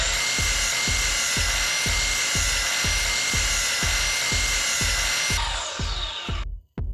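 A power tool cuts wooden pieces to size with a loud, steady whine broken by regular rhythmic thumps about twice a second, then winds down and stops near the end.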